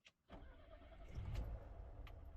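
Classic Lada VAZ 2101 with a warm engine starting on the key with no choke and a little throttle: a brief key rattle, then the starter cranks and the engine catches into a steady, fairly close idle rumble.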